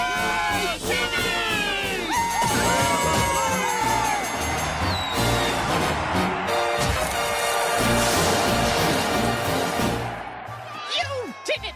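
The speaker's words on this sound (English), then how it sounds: "I wish for a group of people that would cheer for me no matter what I do." A cartoon crowd cheers and whoops in a burst of excited shouting, layered with bangs, sparkly effects and overlapping voices, fairly loud throughout.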